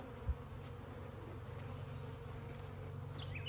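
Honeybees from a nuc being installed into a new hive hum in a steady, faint drone that holds throughout, with a single soft thump near the start and no voices.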